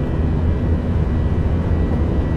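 A propeller aircraft in a 1971 Indian naval combat video game drones steadily as a loud, continuous engine roar, with no voices over it.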